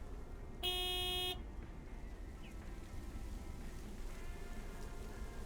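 A single sustained honk from a big white truck's horn in a video game, about a second long and fairly loud, sounding over a steady low background rumble.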